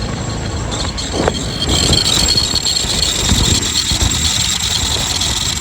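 A KTM motorcycle engine runs close by with a rough, rattling rumble that sounds unhealthy and keeps on steadily.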